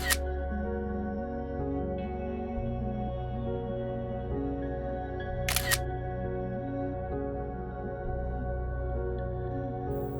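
A Mavic Mini drone hums steadily with a shifting motor whine as its camera takes shots for an HDR panorama, with a couple of faint clicks and a sharper tick partway through.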